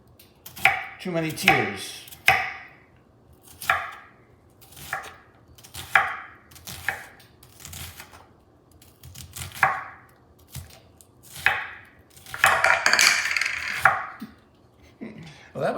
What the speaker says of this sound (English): So let's just chop this onion.